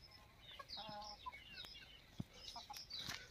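Free-range village chickens cluck softly in a shaded farm shelter, a few scattered calls, faint and somewhat distant over quiet background noise.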